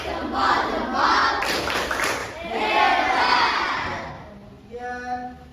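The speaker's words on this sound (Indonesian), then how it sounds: "Yuk, kita tepuk hebat." A classroom of Indonesian schoolchildren loudly chanting and clapping together in a teacher-led 'tepuk hebat' rhythm chant, a dense crowd of young voices filling the room before it fades to a lone adult voice.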